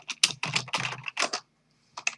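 Quick bursts of keystrokes on a computer keyboard, close and clear, clustered in rapid runs with a short pause before a final few taps; no voices.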